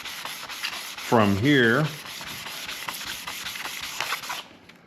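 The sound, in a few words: sanding planer column with 600 grit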